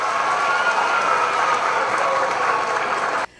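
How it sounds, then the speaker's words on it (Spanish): Dense, steady applause from students and attendees at a school-year opening ceremony in Santiago, filling the hall at an even level before cutting off abruptly at the end. "Otro gran aplauso para él y para todos ustedes,"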